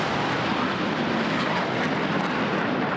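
A MiG-21 fighter jet flies over a Croatian Victory Day and homeland gratitude ceremony, a loud, steady roaring rush of engine noise with no voices.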